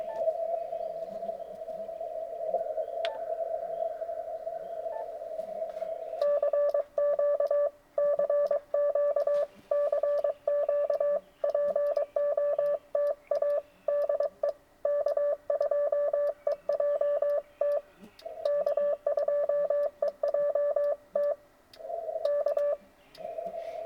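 Morse code side tone from an amateur radio during a park activation sounds as a clear steady beeping of dots and dashes, a single pitched tone keyed in rapid rhythmic bursts over a faint hiss, with no talking.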